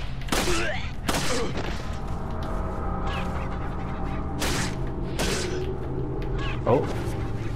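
Gunshots in the horror game Resident Evil 4, several sharp loud shots spaced irregularly over steady game ambience, with a voice talking in between.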